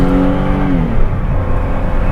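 A car engine pulls hard in first gear up a mountain hairpin road on the route to Les 2 Alpes. It makes a loud, steady, close drone, and a rising harmonic tone fades out partway through.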